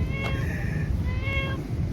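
A cat meows twice at a church, two drawn-out, tonal cries separated by a short pause, heard close over a low rumbling background.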